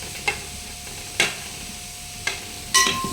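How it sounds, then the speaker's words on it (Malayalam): Tomato stirred into frying onions in a chicken curry pan, giving a faint steady sizzle broken by four distinct scraping strokes of the spoon, fairly close. "നന്നായിട്ട് ഇളക്കുക."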